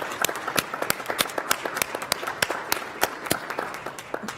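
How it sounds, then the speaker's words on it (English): Scattered hand claps at a Pima Community College governing board meeting, a modest round of applause with uneven, separate claps heard fairly close over the whole stretch. "Let's also applaud all of those amazing people that work here at Pima College"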